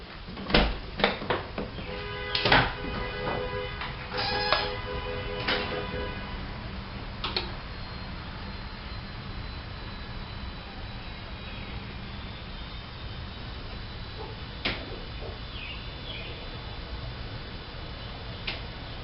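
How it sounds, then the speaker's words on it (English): Fuel pump priming on a 1987 Toyota 4Runner with a 22RE engine, heard as a faint steady hum after a burst of sharp ticks and clicks near the start, quiet and mechanical. "I am going to hold the key to the start position without hitting the clutch pedal. That'll run the fuel pump"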